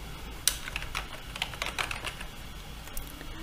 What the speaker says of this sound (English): type my address